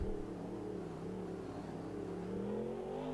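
Monster truck engine revving hard during a Monster Jam freestyle run in Minneapolis, a loud, steady low roar with rising harmonic pitch held for about three seconds, no talk over it.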